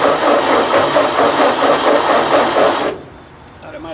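A 2N tractor engine churns loudly and steadily up close for about three seconds, then cuts off abruptly, leaving quieter background noise.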